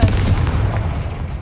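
Confringo fire spell explodes in Hogwarts Legacy, a single loud booming blast with a deep rumbling tail that fades over a second.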